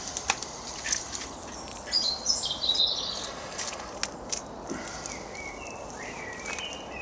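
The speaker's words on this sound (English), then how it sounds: "you can hear the birds, they're singing the sun down" Wild birds sing and chirp outdoors at sunset, several distinct calls and tweets at moderate distance over a quiet hissing background, with occasional faint knocks and no talking.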